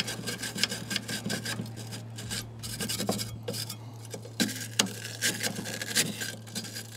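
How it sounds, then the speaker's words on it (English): A metal brush scrapes baked-on buildup inside a Ninja Woodfire outdoor grill, giving repeated close, rasping strokes in an uneven back-and-forth rhythm, moderately loud and continuous. "just get in there and scrape away"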